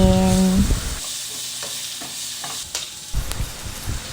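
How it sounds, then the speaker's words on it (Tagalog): Bitter gourd (ampalaya) sautéing in a pan gives off a steady sizzle, with intermittent stirring scrapes of a utensil and a brief tonal hum at the start. "Magigisa na tayo at halo-haloin na natin."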